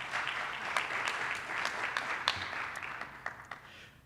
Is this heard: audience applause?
yes